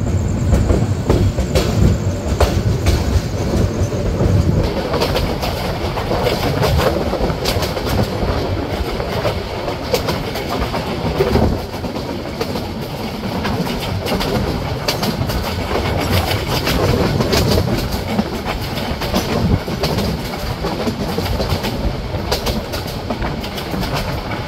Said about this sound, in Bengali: ট্রেনটি থ্রুপাস করে যাচ্ছে লাকসাম রেলওয়ে জংশন